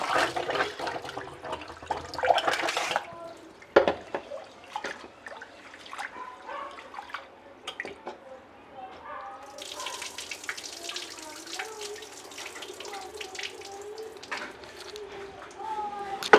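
Red amaranth leaves being washed under a running kitchen tap at home, with a steady hiss of flowing water in two stretches, near and moderately loud, separated by quieter handling and splashing, as someone talks intermittently over it.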